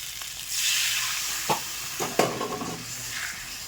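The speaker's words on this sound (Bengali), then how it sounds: "ডিম দিয়ে আলু দিয়ে কষানো হচ্ছে" Eggs and potatoes sautéed in a hot kadai for egg curry, with a continuous sizzle broken by a few sharp scraping stirs of the spatula against the pan, close and without talk.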